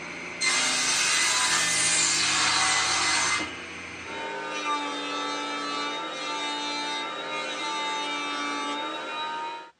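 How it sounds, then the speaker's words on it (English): Planed wooden pieces being cut to length with a saw, a loud broadband cutting burst early on, then a steadier lower hum with tonal ringing as the blade runs on, no talking. "Now that I have the pieces planed, I can cut them to length."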